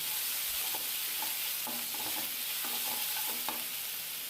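Chopped garlic frying in a pan for a colocasia fry is stirred with a spatula, producing repeated scraping strokes over a steady low sizzle, with no talking.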